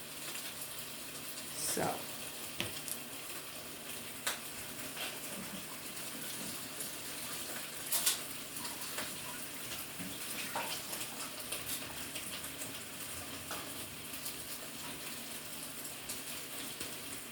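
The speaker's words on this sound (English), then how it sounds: "I can hear the sausage cooking over here." Steady crackling sizzle of sausages frying in a pan, close and continuous, with occasional sharper pops and clicks of cookware.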